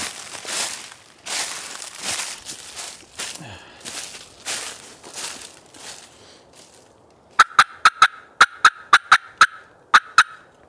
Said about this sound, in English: First gobble of the day